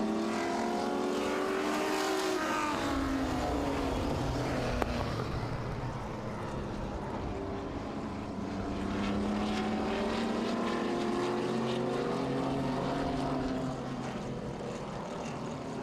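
Several vintage modified race cars roar around Oswego Speedway, a dense, steady blend of engines with pitch sweeping up and down as the cars pass and shift, loud and sustained with no talk.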